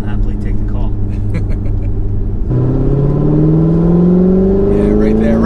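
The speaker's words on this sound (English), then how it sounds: "You're able to retain that muscle car sound" A C7 Corvette with an AWE exhaust system rumbling low, then revving up in a rising, strengthening drone, loud and close, with people talking over it.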